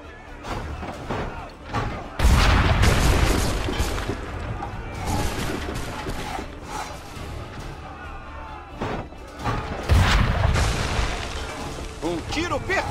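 Two heavy booming cannon blasts in the video game Assassin's Creed 3 ring out a few seconds apart, each followed by rumbling debris, with a voice speaking in between.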